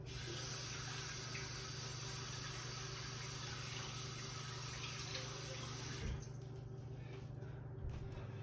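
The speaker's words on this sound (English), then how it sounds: "Wash my hands again." A tap runs steadily into a sink during handwashing, a faint even rushing of water that stops abruptly near the end, leaving a quieter room with a few small clicks.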